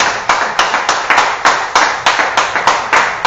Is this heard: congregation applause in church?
yes